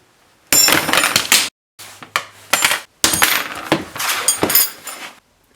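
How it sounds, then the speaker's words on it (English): Bolt cutters work through brass rod in a few bright, metallic clinks and snaps, followed by the short pieces clattering and jingling on a hard surface nearby, with no voices. "I'll just use my bolt cutters to cut two pieces"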